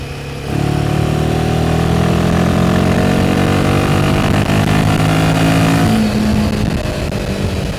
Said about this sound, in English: leaving it in 4th and opening the throttle